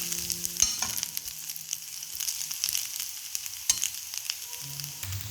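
Egg fried rice with masala being stirred in a pan, with a soft steady sizzle and several sharp spatula scrapes and knocks against the pan.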